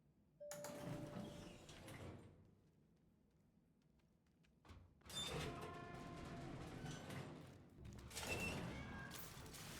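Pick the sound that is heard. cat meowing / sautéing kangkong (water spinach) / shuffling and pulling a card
cat meowing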